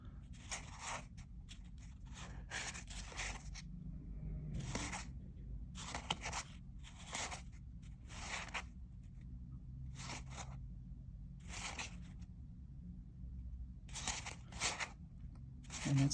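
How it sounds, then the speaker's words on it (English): Handmade Conver 1760 tarot cards being handled and flipped through: a quick, uneven run of crisp card snaps and flicks, close up over a low, steady room hum, with no talking. "Let's quickly go through these cards."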